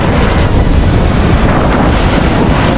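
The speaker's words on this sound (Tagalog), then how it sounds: "Ito medyo malakas ang alon. Medyo lang. Kasi malakas ang hangin ngayon." Strong sea waves churn at a beach in Dagupan, Pangasinan, with heavy wind buffeting the microphone, a loud, steady roar of surf and gusts filling the whole stretch without a break.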